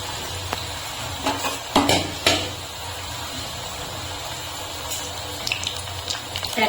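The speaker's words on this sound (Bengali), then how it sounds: "আমি তিনটে তিনটে করে ভেজে নেবো কারণ" Three pitha at a time frying in a small amount of oil, a continuous soft sizzle broken by sharp clinks and scrapes of a utensil against the pan.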